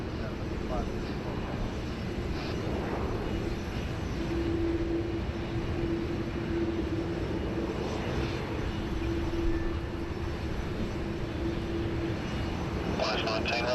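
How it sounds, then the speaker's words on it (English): Jet airliner taking off from runway 16 right at Sydney Airport, a continuous loud broadband engine roar with a steady rumble throughout, heard from a distance alongside faint air traffic control radio chatter. "runway 16 right, cleared for immediate takeoff"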